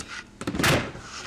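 A home office desk drawer is pulled and pushed, a short scrape followed by a close, solid thunk, near and alone.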